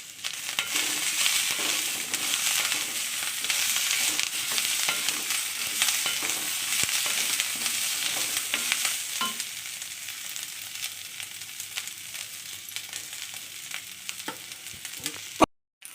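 Capsicum and tamarind sautéing in a pan for capsicum thuvaiyal, a continuous close sizzle with scraping stir strokes throughout, ending in a sharp clink; no speech.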